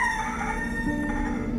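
Chickens cluck and call with faint crowing tones over a steady background hum, continuous and moderately close for a brief moment.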